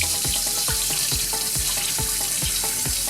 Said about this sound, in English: run your water into your bowl